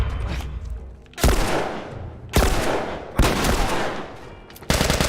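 Bursts of gunfire from guns in The Last of Us against armored enemies: four loud, sharp volleys, each a crack followed by a ringing decay, with short gaps of low rumble between them.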